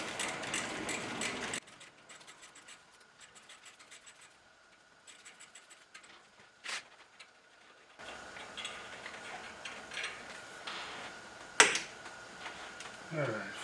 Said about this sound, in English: get your E8 torque socket. And we go ahead and take that whole stud out